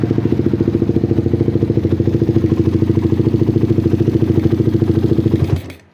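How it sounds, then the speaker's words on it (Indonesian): A motorcycle engine fitted with a modified PWK carburetor idles steadily, a close, even, rhythmic putter with a regular mechanical pulse for about five seconds before it cuts off abruptly at the end. "Terbukti idle ya, idle dan idle ya, normal ya."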